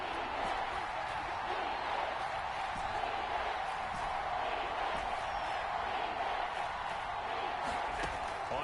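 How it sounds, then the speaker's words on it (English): Stadium crowd noise from an American football video game fills the clip, a steady, dense roar of fans in the first quarter that holds at an even level throughout, with no talk over it. "Crowd getting in it a bit already."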